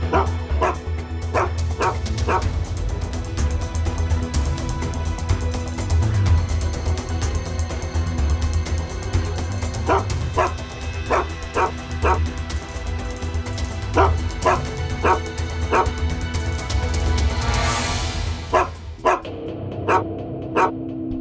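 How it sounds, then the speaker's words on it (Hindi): A dog barks repeatedly in short bursts and clusters at a deserted construction site, loud and fairly close over a steady low rumble of background noise, with no one speaking. "फिर ये कुत्ता क्यों भौंक रहा है?"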